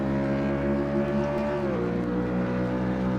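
A racing truck engine drones at full throttle around the Monza circuit in a video game, a steady loud hum with a slight drop in pitch partway through.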